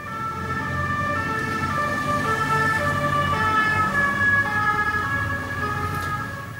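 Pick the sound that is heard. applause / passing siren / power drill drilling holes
passing siren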